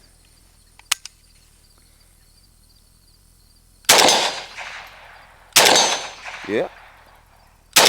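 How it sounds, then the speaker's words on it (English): Two loud, sharp gunshots from a Century Arms Romanian AES10B2 RPK rifle ring out at a range about two seconds apart, each with a short echoing tail, after a faint click; someone briefly speaks. "let's put some rounds towards the C-zone"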